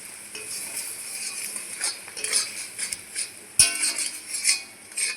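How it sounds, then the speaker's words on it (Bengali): A spatula scrapes and stirs a thick jaggery and papaya mixture for laddus in a pan, with irregular scraping strokes, occasional metallic clinks and a faint sizzle. "এইভাবে ভাজতে থাকবো যতক্ষণ না নাড়ুর শেপ আসছে"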